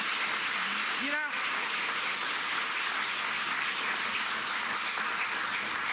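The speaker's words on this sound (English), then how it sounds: "So just give that a round of applause." Steady applause from a large crowd at a college event fills the whole stretch, dense and even, with a brief voice cutting through near the start.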